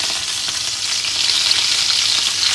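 Potatoes fry in a dry pan with a continuous, close, bright sizzle and crackle, steady and fairly loud, with no talking.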